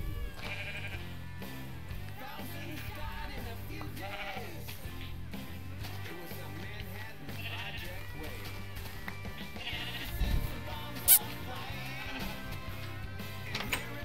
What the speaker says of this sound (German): Das eine ist ein graues Schaf.